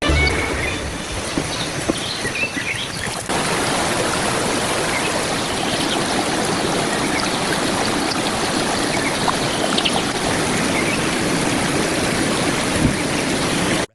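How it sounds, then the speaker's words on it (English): Water spills over a small barrier dammed across a stream, forming a miniature waterfall: a loud, continuous close-up rush and splash, slightly quieter for the first few seconds before settling into a steady roar. "The formation of a miniature waterfall below the barrier"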